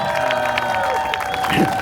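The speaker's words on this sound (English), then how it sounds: "Everyone, clap for Rayan!" A street-show crowd in Amsterdam at a sword-swallowing act claps and cheers steadily, with scattered shouts and some voices mixed into the noisy outdoor ambience.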